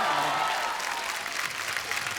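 A studio audience at The Kapil Sharma Show applauds as the guests walk in, with dense, sustained clapping and crowd noise that carries through the whole stretch.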